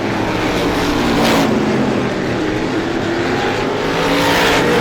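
Stock cars on the final lap of the Star Classic race roar past in a loud, steady engine drone with a slowly shifting pitch, the pack passing close by.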